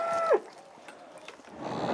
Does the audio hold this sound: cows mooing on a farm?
yes